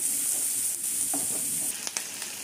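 Roughly chopped onions for butter chicken fry in a pan with a steady, close hiss and crackle, broken by a few light stirring taps.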